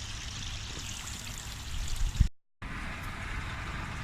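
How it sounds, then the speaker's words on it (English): Water spills over the edge of an Eazy Pod filter on a koi pond in bad weather, a continuous pouring trickle with a short dropout near the end. "that water's just starting to overflow the eazy pod, which means there's water getting round it without being filtered"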